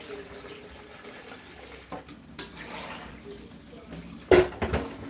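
Tap water runs into a pot of rice as it is prepared for cooking in a home kitchen, a steady hiss of flow with a louder splashing burst near the end, heard alone without talk.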